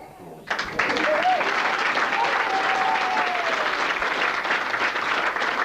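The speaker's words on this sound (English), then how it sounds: "So a round of applause." Wedding guests break into a round of applause after a speech, a loud, sustained wash of clapping that starts abruptly and fills the room, with a few cheers and whoops over it.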